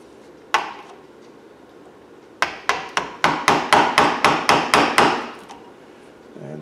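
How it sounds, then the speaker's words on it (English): Hammer striking a screwdriver to drive copper out of a motor armature: one early metallic tap, then a rapid run of about a dozen sharp, evenly spaced blows up close. "And then there's the screwdriver and the hammer. And then just kind of tap it a little bit more here."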